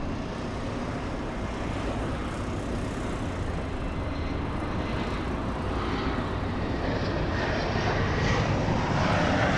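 A SkyWest jet departing Los Angeles airport for Tucson, Arizona, its engines producing a steady, loud broadband roar that swells slightly toward the end, heard alone without voices.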